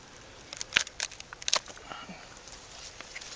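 Snips cutting through the center strands of a date palm flower stalk during hand pollination, giving a few sharp, faint clicks spaced irregularly in the first half, then quiet rustling with no talk.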